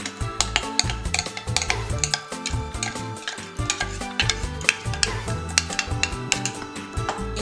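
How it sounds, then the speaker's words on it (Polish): Pancake batter with egg yolk beaten with sugar is stirred briskly in a bowl with steady scraping, clinking strokes, a sizzle from a frying pan in the background and no voices. "I dokładnie mieszamy."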